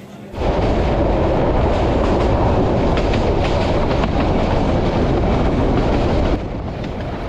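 A passenger train travelling from Chittagong to Sylhet in Bangladesh rumbles loudly and steadily, a dense continuous roar of wheels and carriage noise from start to finish, easing slightly near the end.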